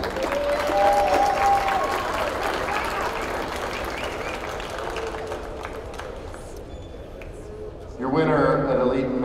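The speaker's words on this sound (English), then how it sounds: "Let's give a huge round of applause for these two boxers." A crowd at a boxing event at the US Olympic Trials applauds two boxers, steady loud clapping and cheering that swells briefly near the end.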